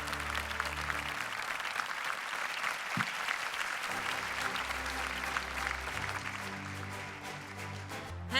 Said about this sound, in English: a heartfelt round of applause for a wonderful leadership team